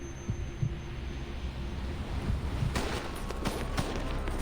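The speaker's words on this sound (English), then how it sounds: "Staccato heartbeats thump in a rising crescendo" Heartbeat thumps pulse faintly and steadily, low and soft, before a burst of sharp cracking shots and clatter takes over toward the end.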